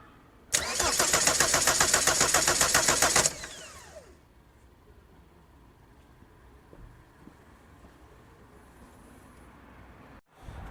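A car starter motor cranks the engine during a current-draw test, a loud rapid rhythmic whirr for about three seconds that winds down and leaves a quiet background hum, with a short knock near the end.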